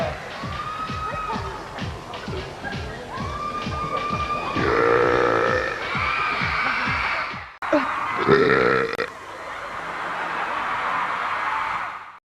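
Celebrities at the Kids' Choice Awards burp: a rapid run of rhythmic burps is followed by longer, rattling belches, with crowd noise in the background.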